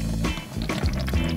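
Farmhouse grain vinegar, steamed grains with daqu starter, ferments in earthenware vats in a mud-walled room, giving off close, irregular wet bubbling pops and gurgles in short bursts.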